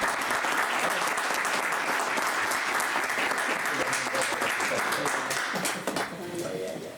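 An audience at a Jewish-Christian relations conference applauds the newly named bishop Fernando Ramón, with dense, continuous clapping throughout that thins slightly near the end.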